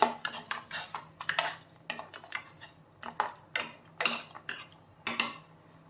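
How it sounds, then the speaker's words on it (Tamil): A spoon stirs palm jaggery dissolving in liquid in a metal pot while making dry ginger and coriander coffee, clinking and scraping against the sides in quick, irregular strokes with short pauses between them. "ஸ்பூன் வச்சு கிளறி விடுவோம்"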